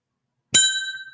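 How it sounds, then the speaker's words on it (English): A single sharp strike of a boxing opening bell rings out loud and close, its metallic tone sustaining and slowly fading over about a second. "There's the opening bell"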